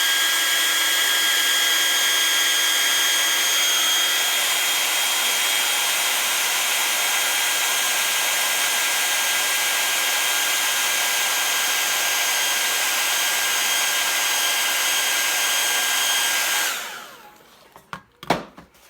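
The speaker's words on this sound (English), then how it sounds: "let me hit it with the hairdryer" A hair dryer blows a steady, loud whir across wet watercolor paint, holding an even roar for about sixteen seconds before it switches off abruptly, leaving a few faint knocks and handling sounds.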